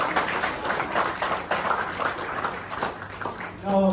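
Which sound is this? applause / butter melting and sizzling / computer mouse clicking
applause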